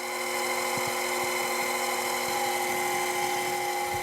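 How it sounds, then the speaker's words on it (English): Metal lathe running steadily through facing and turning cuts, a constant whine of tonal machine noise with faint intermittent chatter ticks underneath, continuous and close. "you'll occasionally hear a little bit of noise. That is again chatter that we're inducing."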